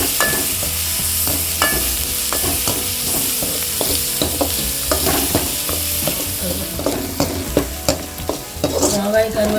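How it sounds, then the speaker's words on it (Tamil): Onion, curry leaves and green chillies sautéing in a pan for Tamil-style egg masala, a loud continuous sizzle punctuated by frequent sharp clicks and scrapes of a spoon stirring against the pan. "கருவேப்பிலையும் மிளகாயும் சேர்த்துக்கலாம் சேர்த்து நல்லா வதக்கலாம்"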